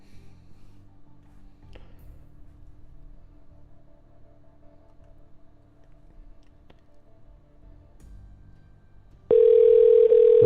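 A telephone dial tone starts abruptly near the end and holds as a loud, steady tone, following a quiet stretch of low background hum and faint taps, as a call to an 865 number is placed.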